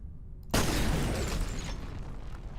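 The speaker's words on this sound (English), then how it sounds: "Now I want to see an explosion in this room." Explosion in the horror shooter F.E.A.R., a sudden loud blast after a quiet moment, followed by a rumbling, debris-filled decay that lingers for two seconds.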